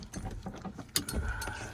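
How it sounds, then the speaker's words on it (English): Ratcheting screwdriver removing a screw from a car door panel, giving a short series of close clicking ratchet turns. "Unscrew it here."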